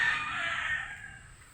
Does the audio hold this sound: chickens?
yes